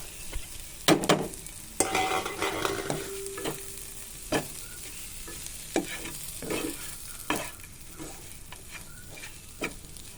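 Spiced minced chicken, boiled with chilli powder, turmeric and salt and then ground, is stir-fried in a pan as sandwich filling, sizzling softly under repeated close scrapes and knocks of a spatula at an uneven rhythm.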